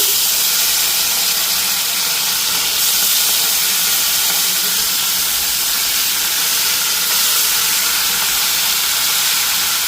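Fish frying in hot oil, giving off a loud, steady, unbroken hiss of sizzling that holds level throughout with no voices.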